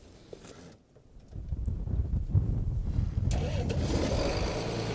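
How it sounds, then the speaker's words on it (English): A farm loader tractor's engine turns over after a quiet start and settles into a rough, close idle, with wind noise on the microphone. "Allegedly, the loader tractor will not start."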